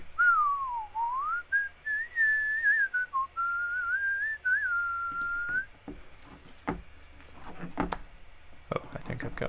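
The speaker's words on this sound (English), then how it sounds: "I'll record some whistling." A person whistles a wavering, sliding melody close into a microphone for several seconds, followed by scattered clicks and faint handling noises.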